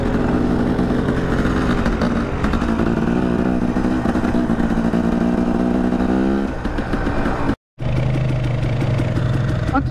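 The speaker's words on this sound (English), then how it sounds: "See how they get on the throttle every corner?" Off-road motorcycles ride a dirt trail, the engine droning steadily close by and loud, with throttle surging through a corner before a brief dropout and then renewed revving.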